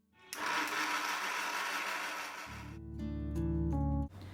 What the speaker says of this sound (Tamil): இப்போ இதில் தேவையான அளவு தண்ணி சேர்த்து நல்லா நைஸாக வந்து அரைச்சிக்கோங்க.